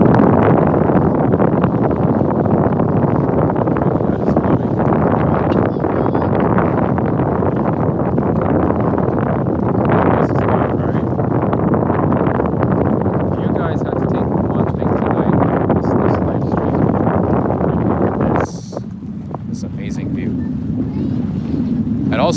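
Heavy wind buffets a microphone on the Lower Manhattan waterfront, a loud continuous roar that drops away abruptly near the end.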